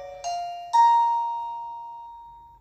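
A Blurams 2K wire-free video doorbell chime sounds two clear bell notes, the second ringing on and slowly decaying, near and alone.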